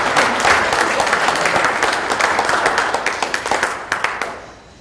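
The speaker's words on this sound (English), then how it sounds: "Would you all give him a round of applause," Audience applause for an honored elder at a community Ma'at restoration event, a dense sustained burst of many hands clapping that thins into a few scattered claps and fades out near the end.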